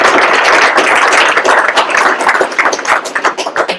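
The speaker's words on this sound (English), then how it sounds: "I'd ask you to give them a round of applause." An audience at a public service hall of fame induction ceremony claps, giving a dense, loud round of applause that continues for the whole stretch without talk.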